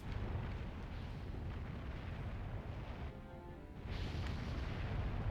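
Geysers erupt in The Legend of Zelda: The Wind Waker, a continuous rumbling roar that dips briefly and then surges back, loud and close, with no talk.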